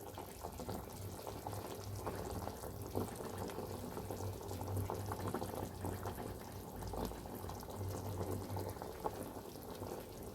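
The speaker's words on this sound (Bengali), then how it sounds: "দেখো এটা ফুটতে আরম্ভ করেছে।" Mung dal boiling in a pot, giving a steady, even bubbling and simmering hiss that carries unbroken and fairly close throughout, with no talking.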